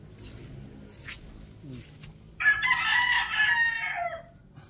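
A game fowl rooster of the sweater breed with white feet crows once, loud and close, in a long drawn-out call after a quieter stretch of faint background noise.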